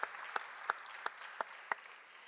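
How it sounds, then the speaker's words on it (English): A handful of scattered, separate claps from a small audience at a senior awards ceremony of a Michigan student film festival, spaced unevenly and fairly faint, like the tail end of applause. "Let's give them another round of applause."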